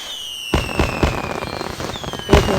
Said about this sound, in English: This one lets you shoot off unlimited fireworks.